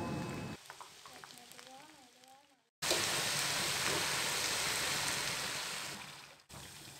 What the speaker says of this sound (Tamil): தனித்தனி பேட்சாக நம்ம போட்டு ஃப்ரை பண்ணும்போது 1-2 நிமிஷம் நம்ம அப்படியே விட்டுடலாம்